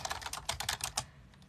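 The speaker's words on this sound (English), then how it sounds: "I'm typing on a live with 200 people on it." Rapid typing on a computer keyboard during a live weather stream, a quick burst of close, crisp keystrokes for about a second before trailing off into quiet.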